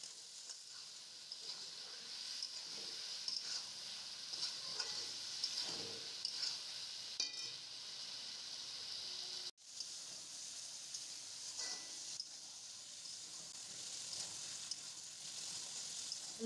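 Chicken pieces and spices fry in a pan with a soft, steady sizzle, while a spoon scrapes and stirs now and then, faint and without talk.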